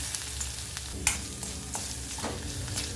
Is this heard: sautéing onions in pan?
yes